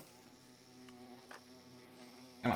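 Insect-like buzzing from bees in the Minecraft modpack FTB StoneBlock 4, a steady faint drone through most of the moment that swells into a louder, closer burst of buzzing at the very end.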